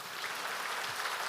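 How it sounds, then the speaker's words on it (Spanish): Audience applause after a talk on strategic concentrate feeding at a dairy producers' event, a steady even wash of many hands clapping, fairly distant and uninterrupted. "Lo despedimos con un fuerte aplauso."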